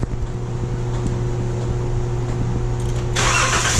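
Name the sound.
2012 Chrysler minivan engine starting, fuel pump running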